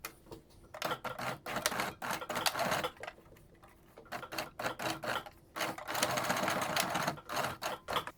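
A sewing machine tacking down the top of a homemade fabric face mask, running in several loud, close bursts of rapid stitching broken by short pauses, with no one talking.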